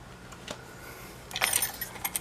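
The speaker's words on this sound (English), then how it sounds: "All keys hanging here." Keys hanging in an abandoned vintage gas station jangle faintly, a soft clink early on, then a brighter cluster of metallic rattles and a few last chimes near the end, close and quiet with no talking.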